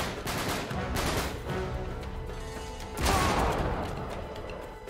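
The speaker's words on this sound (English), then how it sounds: "Shotgun." Shotgun fire in the video game Uncharted 3: a few blasts in close succession over dense, noisy battle ambience, with a heavier boom near the end.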